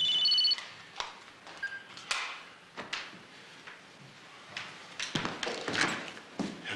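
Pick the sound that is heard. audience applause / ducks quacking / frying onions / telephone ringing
telephone ringing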